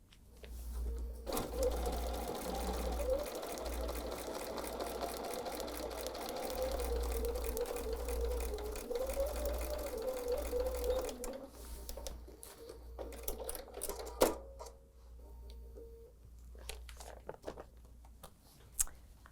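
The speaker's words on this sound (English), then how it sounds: "So let's go to the sewing machine, sewing 1/8 of an inch to the inside of our circle." A sewing machine runs steadily for about ten seconds with a rapid mechanical stitching rhythm, sewing fabric for a hot pad, then slows and stops, followed by a few light clicks.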